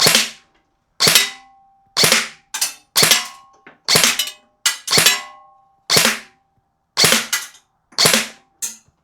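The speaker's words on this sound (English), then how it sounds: "I'm going to try shooting low" A Specna Arms SA-F04 Gen 2 Flex AEG airsoft rifle fires about a dozen sharp single shots at irregular intervals, each a loud, close snap with short mechanical ringing.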